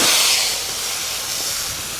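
A brief, loud, steady hissing sizzle as onion and tomato paste hits hot oil tempered with dried red chilli and nigella seeds and fries.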